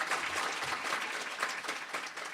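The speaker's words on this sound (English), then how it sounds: "Please welcome and give a big round of applause for Mercedes Gonzalez." A crowd at a fashion-industry talk at a trade show gives sustained applause to welcome a speaker, a steady wash of many hands heard from a distance, fairly faint and even.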